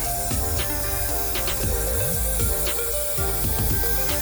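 Gloss black Plasti-Dip peelable paint hisses from an aerosol can in a steady spray, broken by short pauses and repeated bursts as a coat goes on, close to the microphone and with no talk.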